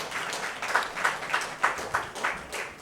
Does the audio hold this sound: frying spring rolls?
no